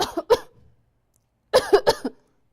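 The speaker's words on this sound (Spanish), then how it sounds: "los fumadores empiezan con una tosecita" A smoker's cough: two short bursts of dry coughing, a pause, then three more harsh coughs in quick succession, close and fairly loud.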